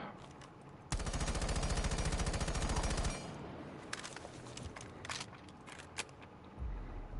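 Rapid automatic weapon fire from a Rainbow Six Siege recoil test rattles loud and close in one sustained burst of about two seconds, followed by scattered single shots and clicks.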